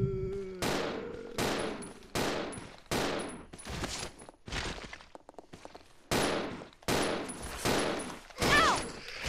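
Bursts of gunfire in the video game Resident Evil Zero come as repeated sharp volleys, some rapid and sustained, others short, separated by brief gaps, loud and close, with a faint high whine in places.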